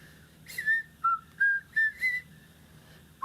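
Someone whistles the Andy of Mayberry theme song nearby while on phone hold, a string of clear sustained notes with brief pauses between them, against a low background hum.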